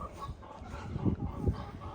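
Backyard chickens cluck in a soft, busy stream close by, their low calls overlapping as a hanging basket goes up nearby, with no talking.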